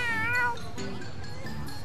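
A cat meows in the video game Tales of Xillia 2, giving one clear, drawn-out meow up front, then softer, fainter mewing trails off against quiet background sound.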